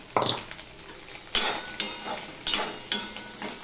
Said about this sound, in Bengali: এবার এগুলো আমি ভেজে নেব।